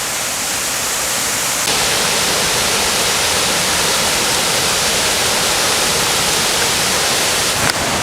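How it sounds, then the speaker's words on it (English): A 37-foot two-tiered Conestoga Falls waterfall in a Pennsylvania state park roars as a dense, constant broadband rush of falling water, loud and unbroken throughout. "I believe this is the 37-foot Conestoga Falls."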